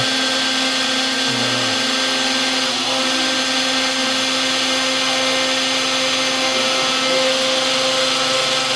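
A CNC machine carves a math equation with a loud, continuous motor whine and high cutting hiss. Steady tones hold throughout, with slight shifts as the tool moves, and nobody speaks.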